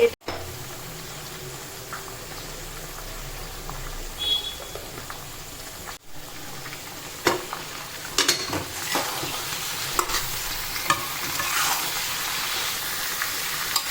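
Red chili and turmeric powder frying in a pan as they are stirred, with a soft continuous sizzle and scattered scraping and clinks that grow busier toward the end.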